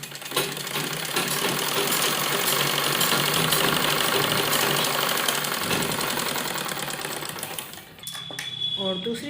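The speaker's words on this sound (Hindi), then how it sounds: "तो यहाँ पर हम पहले सिलाई लगाएंगे।" A sewing machine stitches baby clothes in a continuous, even run of close mechanical whirring. Near the end it slows and stops briefly, then starts again.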